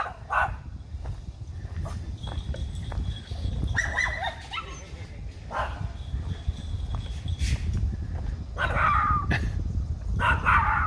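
A dog barks repeatedly in short, scattered bursts with occasional whimpers and yips, over a constant low rumbling background.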